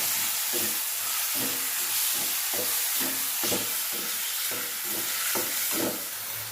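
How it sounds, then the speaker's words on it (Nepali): Spice paste with salt, turmeric and cumin-coriander powder fries in a pan: a constant close hiss with rhythmic stirring scrapes repeating about twice a second, and nobody speaking. "जिरा धनियाँको पाउडर हालेर मजाले भुट्ने।"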